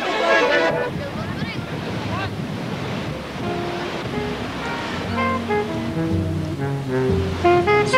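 Baltic Sea surf washing steadily onto the shore, a continuous broadband rush with wind noise, partly overlaid by folk-style music with sustained tones.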